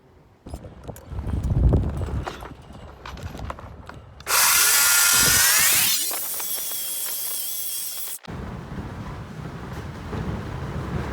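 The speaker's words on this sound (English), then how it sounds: "I will cut a bunch of 1 inch strips at 6 inches" Power saw cutting 1-inch wood strips: after some handling clatter, a loud whining cut starts abruptly and runs about four seconds, its pitch dropping as the blade bites before it cuts off, followed by clunking workshop sounds.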